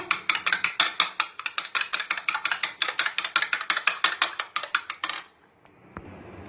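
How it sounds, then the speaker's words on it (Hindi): A single egg is beaten in a bowl for frying, the utensil clicking rapidly and evenly against the sides for about five seconds before stopping abruptly. The sound is close and sharp, with no talking. "एक अंडा लिया है हमने फ्राई करने के लिए। ऐसे फेंट लेंगे इसको।"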